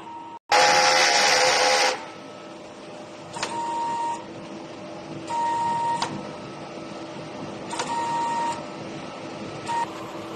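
A DTF printer runs a print head cleaning cycle: a loud burst of pump and motor whir opens, followed by several shorter mechanical whirring passes with a steady tone, separated by quiet gaps.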